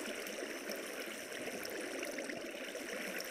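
Steady rushing water flows continuously in a modded survival video game, like a stream pouring over rocks, with no voices.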